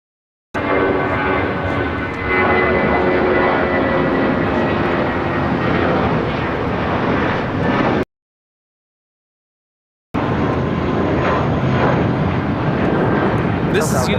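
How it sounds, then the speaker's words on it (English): A United Airlines Airbus A320 takes off from LAX, a loud sustained jet engine roar that cuts out briefly and then resumes at similar strength. "This is United Airlines 1395 taking off to Austin on an A320"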